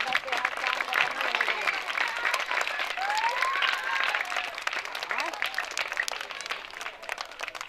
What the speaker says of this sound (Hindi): तालियां आपकी रुकनी नहीं चाहिए।